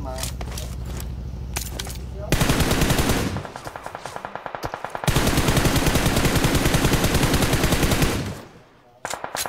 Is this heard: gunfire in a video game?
yes